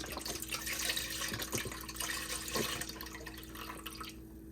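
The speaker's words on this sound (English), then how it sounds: "So we're just going to pour that right on in, the whole entire container." Chicken broth poured from a container into a soup pot, a steady liquid splashing and gurgling that stays moderately quiet and continuous throughout, with a low background hum and no talking.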